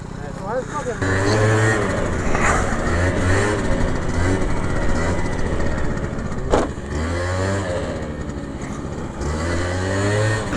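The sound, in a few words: scooters riding, including a Vespa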